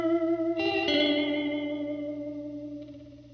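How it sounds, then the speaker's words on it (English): Guitar effects pedal pushed into self-oscillation with square wave modulation, a sustained buzzy harmonic tone with a choppy, stuttering pulse that slowly fades, alone and up close. "I'll try to get it to like self-oscillate, and then I'll turn it to a square wave for like a really jumpy sound."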